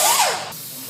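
A short, sharp hiss of brake cleaner sprayed onto a Ford Explorer front hub, close and loud, cut off abruptly after about half a second.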